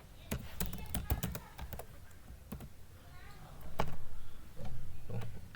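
Rapid bursts of keystrokes on a computer keyboard, close and clear, with irregular clusters of taps and short pauses; a voice speaks over part of the typing.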